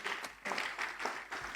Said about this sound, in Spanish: Guido, un aplauso, por favor.